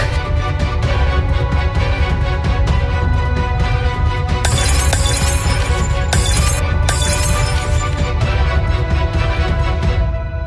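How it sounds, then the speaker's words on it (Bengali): An e-rickshaw (toto) is being smashed, with loud, dense crashing and shattering glass that runs continuously, plus sharper bright bursts of breaking glass in the second half. "আমার গাড়ি ভেঙেছিস তুই, আমি তোর গাড়ি ভাঙবো।"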